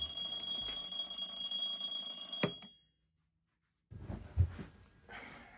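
Alarm clock ringing from across a bedroom, a shrill electronic tone that stops suddenly, followed by silence and then faint shuffling movement.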